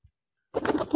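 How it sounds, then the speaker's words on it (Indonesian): An adult pigeon gives a short, soft throaty coo after a moment of near silence, close and brief. "Nah, ini kan merpati yang dewasa."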